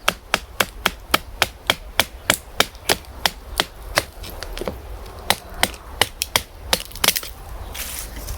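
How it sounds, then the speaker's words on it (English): A knife being batoned down through a piece of firewood gives sharp, evenly spaced wooden knocks, about two a second and loud and close, thinning into a few irregular strikes toward the end. "we'll baton down to it until I feel I'm getting stuck"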